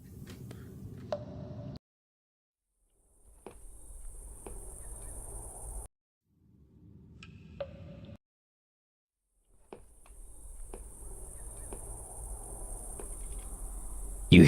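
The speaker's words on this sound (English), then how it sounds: "Buzzing and gnashing of teeth." Eerie insect-like buzzing and chirring from an indie video game demo comes in sustained stretches with thin high whines. The stretches are broken by silent gaps and scattered clicks.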